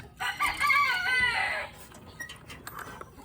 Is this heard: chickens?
yes